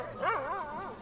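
A cartoon dog in a children's online advent-calendar game gives one drawn-out, wavering yelp that rises and falls in pitch, clear and close with no talk over it.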